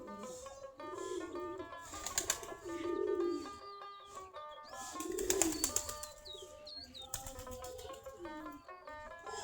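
Native Giribaz pigeons in a home loft on a winter morning give soft, throaty coos in short bursts, close by and alone, amid a busy background of higher tonal sounds.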